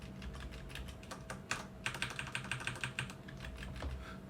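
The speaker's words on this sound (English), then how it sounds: "The only difference is it doesn't really make much noise when you're pressing it, comparing to this one." Typing on an ASUS ROG Strix Flare mechanical gaming keyboard, a quick run of crisp key clicks with a steady rhythm and a few louder strokes, close up and fairly quiet, no voices.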